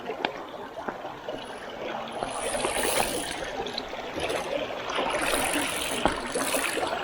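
Steady rushing and gurgling of stream water as a motorcycle fords a river on a mountain loop route in Rizal, continuous and close with a few splashes.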